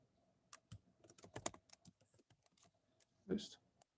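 Code is being typed on a computer keyboard in a run of quiet, irregular key clicks, some louder than others, ending in a firmer thump near the close.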